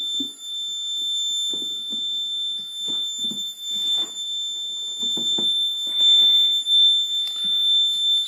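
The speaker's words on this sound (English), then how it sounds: "You can hear that. These actuators are actually very good around this range." Battery case actuators vibrating at a steady tone: thin sustained pitches hold throughout, with faint scattered clicks and rustles underneath at moderate level.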